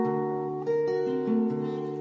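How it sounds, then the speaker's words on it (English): A single sustained piano chord, D dominant flat 13, rings rich and close, with a few inner notes shifting as it sounds for two seconds. "So we just have to play a D dominant or a D dominant flat 13."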